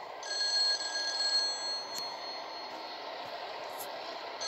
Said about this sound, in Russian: Звонит телефон или звонит, как правильно.